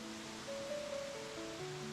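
Water pours steadily over Hoghton Bottoms Weir, a sloping stone weir built around 1780 to power mill water wheels, giving a constant broadband rush heard close up, with a few faint tonal hums over it.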